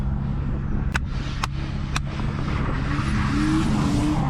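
A Nissan R31 drives at a drift park with a steady, loud engine drone heard from inside the car, three sharp clicks early on and a rising whine later, with no talking.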